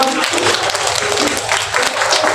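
Wedding guests clapping after the ring is placed on the bride's finger, a loud continuous burst of applause close by, with talk running through it.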